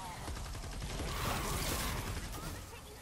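Rapid automatic gunfire from the Typewriter assault rifle in Fortnite Save the World, a dense sustained burst that runs for a few seconds with no gaps.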